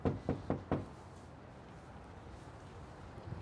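Four quick knocks rap on a door, fairly close and evenly spaced, followed by quiet room tone.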